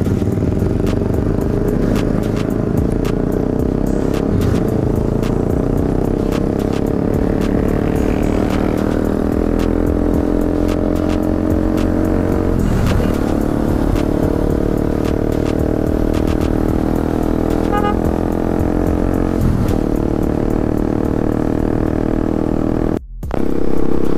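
A motorcycle rides along a road on a Sunday-morning group ride in Makassar, its engine droning loud and steady throughout with small rises and dips in revs, wind rushing around it, cutting out abruptly near the end.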